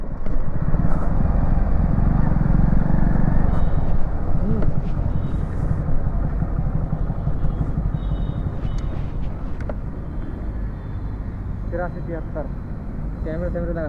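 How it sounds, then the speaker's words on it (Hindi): Bike taxi motorcycle carrying a passenger with a school bag, engine and road rumble loud and steady throughout, fading slightly later, with people talking over it. "बैठाएंगे, लेके चलेंगे बाइक को"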